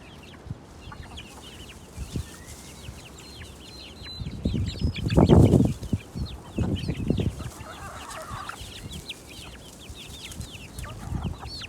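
An injured hen from next door clucks in a yard, with soft scattered clucks building to a louder burst in the middle, then trailing off against quiet background noise.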